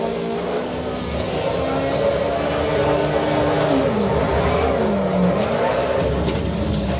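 In the racing game Assetto Corsa EVO, a car slides out of control and drifts, its engine note wavering up and down over continuous tire squeal, loud and close.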